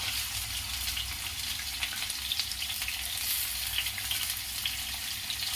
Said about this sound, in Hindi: इसे अच्छी तरह फ्राई करूंगी।